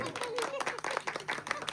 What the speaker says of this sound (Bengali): একটু হাততালি দিন তো সবাই